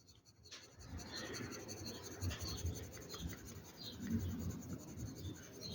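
School pencil shading a grey base colour across paper in broad strokes, a soft continuous scratchy rubbing heard close up and faint, with no talk.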